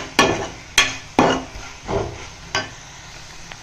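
Eggplant sautéing in a pan for a Tamil kosthu, a series of sharp scraping and tapping stirring strokes at irregular intervals over a faint sizzle, close and moderately quiet.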